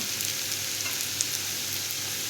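Chili powder fries in a spoonful of hot oil, producing a continuous close, even sizzle for a couple of seconds, alone with no voices.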